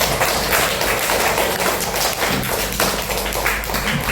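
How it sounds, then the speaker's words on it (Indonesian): A classroom of students claps their hands together in a dense, continuous burst of loud applause lasting several seconds. "Oke, tepuk tangan dulu untuk semua"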